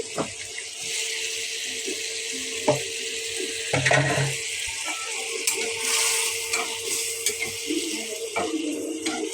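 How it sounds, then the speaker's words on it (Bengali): Eggs sautéing in a pan for an egg curry give a steady, close frying sizzle with a continuous bright hiss, broken by a few soft clinks and stirring bumps. "আমি ডিমগুলা ভুনা করে রাখছি"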